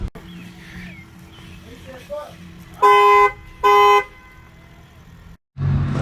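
Two loud blasts from a HornBlasters Conductor's Special 2485 Nightmare Edition air train horn on a truck, each about half a second to a second long, ring out over a background of speech and outdoor noise.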